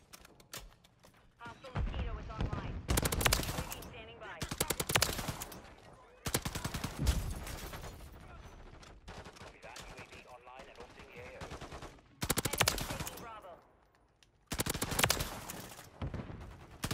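Light machine gun fire in a Modern Warfare match, sustained bursts of automatic shots separated by short pauses, with a player talking over the action in places.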